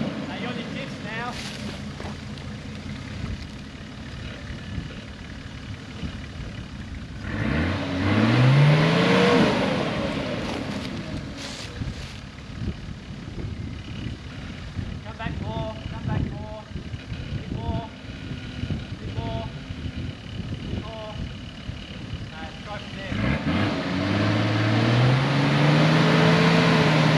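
A Patrol four-wheel drive climbs Telecom Hill at Amamoor, its engine labouring and revving hard with pitch rising in two long surges, over steady wind buffeting and occasional voices in the cabin.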